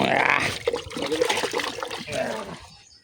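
Hands washed under water pumped by a borewell motor on a farm, a short close splash and gurgle of running water that fades out at the end.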